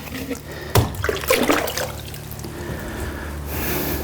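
Water splashes and pours into a Karcher WD 2200 wet vacuum, a sharp splash followed by a few seconds of gurgling, sloshing flow that fades into a steady low hiss.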